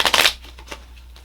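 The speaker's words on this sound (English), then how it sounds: "So I'm just going to shuffle it, and then we're going to deal out a few cards." Playing cards being shuffled for a children's number game, a brief close riffle burst in the first moment that then gives way to near quiet with a faint later rustle.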